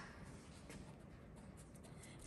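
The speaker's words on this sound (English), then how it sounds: "So I'm going to write that" A pen writes on paper at a puppy's vet weigh-in, a soft, faint continuous scratching over a low background hum.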